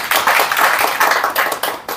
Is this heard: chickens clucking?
no